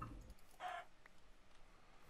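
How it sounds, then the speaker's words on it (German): A Minecraft chicken gives one short, clear cluck near the start, moderately close, against a quiet background with nothing else going on. "Ah, das ist ein Huhn."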